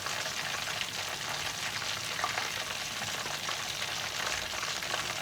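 Chicken wings frying in hot oil, a steady, dense crackling sizzle that stays even and close throughout, with no speech.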